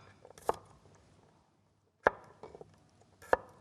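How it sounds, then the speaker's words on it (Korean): Garlic is chopped with a knife on a board: three sharp, close thwacks spaced apart, with faint softer cuts and handling between them. "마늘을 좀 다져볼 건데요"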